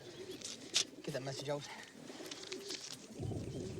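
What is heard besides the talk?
carrier pigeon cooing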